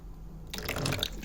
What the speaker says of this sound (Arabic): وهنحط مقدار معلقة من الخل، معلقة شاي صغيرة